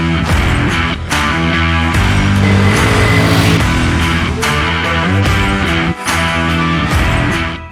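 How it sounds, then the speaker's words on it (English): Hero Xtreme 125R motorcycle with a 124.7cc engine riding on the road, engine running loud and close with repeated revving and gear changes, brief dips between pulls, no talking. "it's time to put the 125R out on the road and see how it performs there"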